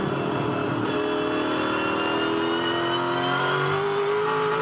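A Ford Performance Racing V8 Supercar roars at speed on the Perth circuit, its engine note droning loudly and continuously from a rear-bumper camera, pitch climbing steadily through the gears.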